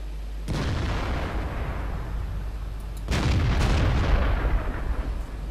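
Small gunfire from a tank shooting in World of Tanks, a Marder II battle: two sharp booming shots a few seconds apart, each with a long rumbling decay over steady background noise.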